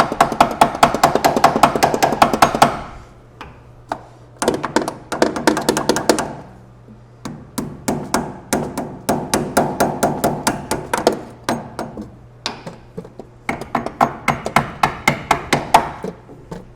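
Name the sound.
brass hammer tapping metal part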